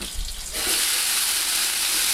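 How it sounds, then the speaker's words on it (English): Water droplets hitting a hot griddle being tested for pancake cooking burst into a loud, close, continuous hiss and sizzle that starts abruptly and carries on steadily to the end. "you see the water droplets start dancing around and sizzling and disappearing quickly"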